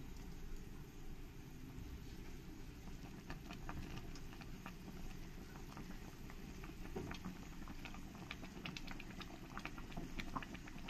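Mustard gravy for a rui fish curry boils in a pan, a quiet, continuous low bubbling with soft patter throughout and no one talking.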